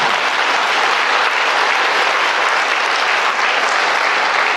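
Congregation clapping during a sermon at Daeyeon Catholic Church in Busan, a dense, loud, continuous round of applause with no talk over it.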